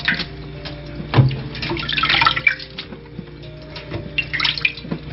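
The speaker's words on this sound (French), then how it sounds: "Il faut enlever l'eau en essorant." Salted cabbage for kimchi being squeezed and wrung out by hand, water splashing and trickling down in uneven bursts, close and moderately loud, with no voices.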